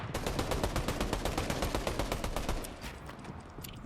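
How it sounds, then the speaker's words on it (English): Rapid automatic gunfire during a competitive Fortnite match, a fast steady burst of loud close shots lasting a few seconds before tapering off into scattered quieter shots. "shots being fired every which way"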